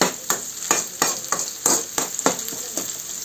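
Chopped onions frying in a pan, a hissing sizzle broken by about nine rhythmic scraping stirs of the spatula, close and fairly loud with no talking.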